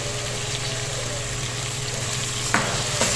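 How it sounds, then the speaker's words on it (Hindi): Roughly chopped onion sautéing in a pan for baingan bharta, a steady close sizzle with a low background hum and a couple of brief stirring knocks near the end, with no speech. "और इसको सौते करेंगे।"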